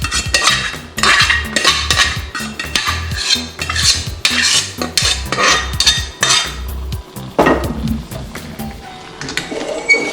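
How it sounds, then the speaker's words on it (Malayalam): Cooked beef being mixed into gravy in a pan for a Kerala-style beef roast: loud, rapid, repeated clanks and scrapes of a metal spoon against the pan, going on almost without a break, with no talking. "നമ്മൾ വേവിച്ച് വെച്ച ബീഫും നമ്മളുടെ ആ ഗ്രേവിയും കൂടി അങ്ങോട്ട് മിക്സ് ചെയ്യണ സീനാണ് ഈ കാണുന്നത്."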